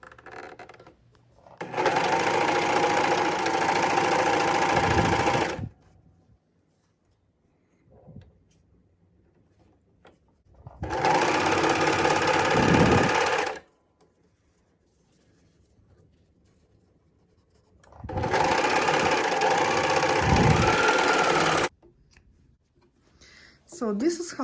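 A 4-thread serger stitches a seam in three loud, steady whirring bursts of a few seconds each, with quiet pauses between them.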